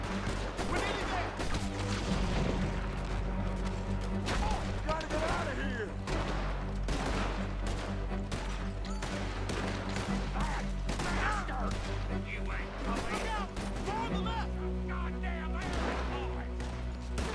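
Gunfire in the video game Red Dead Redemption 2, with repeated sharp shots and bursts cracking through a shootout over music and game voices, sustained throughout.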